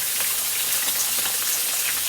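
Fish fries in hot oil with a steady, dense, close sizzle and crackle that stays even throughout, and no one speaks.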